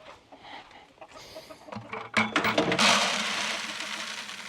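Chickens cluck and squawk nearby in short bursts on a farm, then a sudden loud rustling flurry swells and lingers as a broad, noisy wash.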